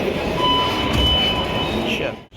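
A crowded Delhi metro train gives off a loud, continuous rumble of wheels and car noise with faint tonal whines, and chatter mixes in before it drops away abruptly at the end.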